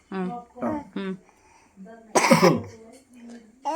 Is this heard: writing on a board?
no